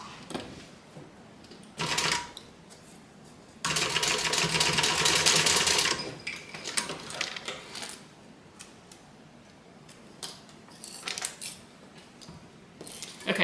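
Sewing machine stitching a zipper onto a bag, running in several bursts: short runs, then a longer loud rattling stretch, then lighter intermittent stitching with pauses, close up and without talk.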